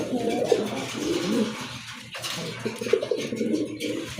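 A Madrazi not pigeon coos in deep, rolling, throaty calls that repeat close and loud, briefly dipping midway, with faint talk in the background.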